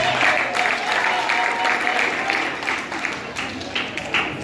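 Church congregation applauding during a Women's Day service, a dense, steady wash of clapping with crowd noise, moderately loud throughout.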